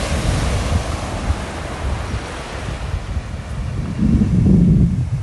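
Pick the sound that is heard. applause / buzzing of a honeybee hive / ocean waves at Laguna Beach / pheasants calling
ocean waves at Laguna Beach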